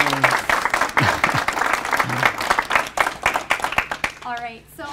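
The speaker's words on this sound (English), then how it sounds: "Let's give them another round of applause for coming" Audience applause at a horror convention panel, steady dense clapping from a crowd in an indoor hall. It is broken by brief bits of speech and ends as a voice begins talking.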